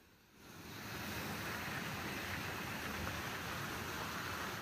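Heavy rain pours down outdoors during a storm, a dense, steady roaring hiss that swells in within the first half-second and then holds loud and unbroken, with no voices.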